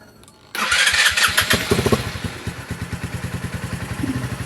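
A motorcycle engine cranks, catches with a sudden loud roar, then settles into a steady, evenly pulsing idle close by.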